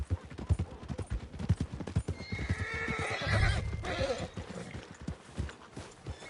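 In a video game, horse hooves clip-clop in a quick rhythm, then a horse neighs loudly midway before the hoofbeats carry on.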